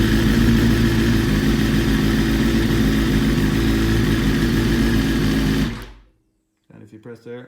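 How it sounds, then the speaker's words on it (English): A 2019/2020 BMW S1000RR with keyless ignition, its engine running loud and steady close by, then abruptly cut to silence, followed by a brief voice. "you press there, and you have current to your bike, and then you just start it as usual"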